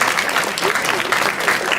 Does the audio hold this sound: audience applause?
yes